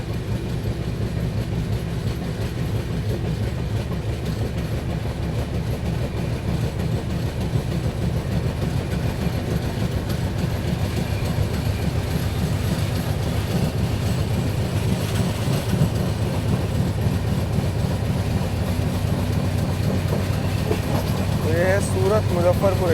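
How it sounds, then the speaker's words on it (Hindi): The Magadh Express rolls steadily along the rails toward Delhi, with a continuous close rumble and a rhythmic clickety-clack of wheels over rail joints that holds throughout. "मगध एक्सप्रेस दिल्ली की ओर बढ़ते हुए"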